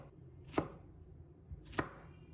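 Two crisp knife chops through cucumber on a cutting board, about a second apart, each a sharp near thud with no one speaking.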